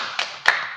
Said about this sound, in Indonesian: tepuk tangan buat Mbak Ilmi